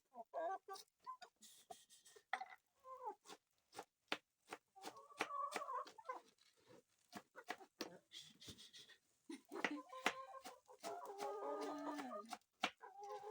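Chickens in an African village yard clucking in quick, scattered bursts, with a few longer squawking calls mixed in. The sound is fairly close but quiet overall, with short gaps between calls.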